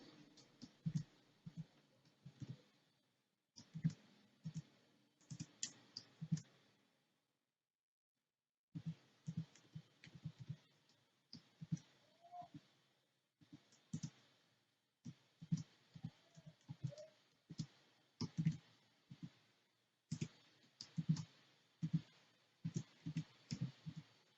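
Someone types on a computer keyboard in close, quiet bursts of rapid clicking keystrokes with short pauses between runs, including one silent gap of a few seconds.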